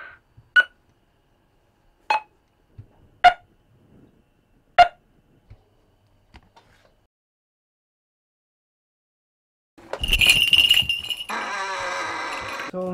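A tester for hawk tracking equipment gives a few sharp, isolated electronic beeps spaced a second or so apart in a quiet setting, followed by a burst of louder rustling noise.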